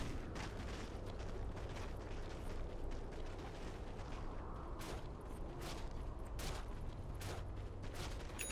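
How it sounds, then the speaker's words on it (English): Tower-under-attack combat in Dota 2 with Radiant's bottom tower being hit: a dense, continuous wash of battle noise with sharp impact bursts recurring roughly every second in the latter half, steady and fairly loud throughout. "Radiant's bottom tower under fire. Bottom tower is being attacked."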